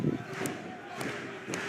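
A wrestling crowd at a hardcore show roars steadily, with sharper bursts of yelling and clapping rising every half second or so over a dense, close din of voices.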